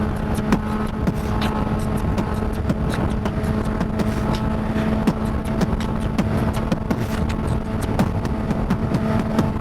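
A car driving on a bumpy freeway, with a continuous engine and road rumble and frequent thumps and jolts from the rough surface, steady and fairly loud with no talking.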